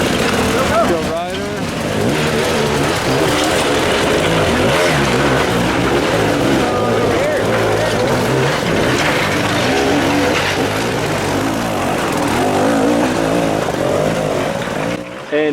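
Hard enduro dirt bikes race for position on a Silver Kings pro course, their engines revving and droning loudly and continuously as they battle, with someone talking over the roar throughout.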